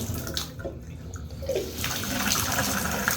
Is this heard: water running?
yes